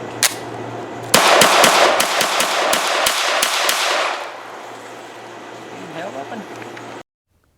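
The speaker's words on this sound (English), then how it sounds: "here's a shooting clip of the small mag in the earlier TP9" Rapid string of sharp pistol shots from a B+T TP9 fitted with a small magazine, about a dozen loud cracks fired in quick succession outdoors, then a quieter stretch of ambient noise.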